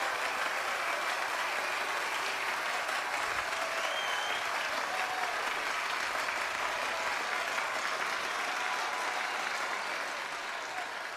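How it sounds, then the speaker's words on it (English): A large studio audience applauds in a sustained, even burst of clapping and crowd noise that holds steady for several seconds before easing slightly at the end. "Shall we please give them a round of applause?"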